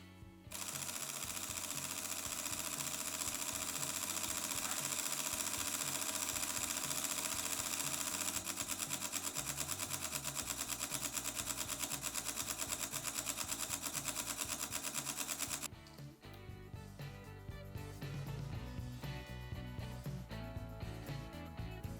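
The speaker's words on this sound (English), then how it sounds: "those crazy 60, 18 or 15 frames per second burst shooting capabilities with full-size RAW images" An Olympus OM-D E-M1 Mark II firing a high-speed burst, a dense continuous rattle of shutter clicks lasting about fifteen seconds before stopping and giving way to quieter mechanical ticking.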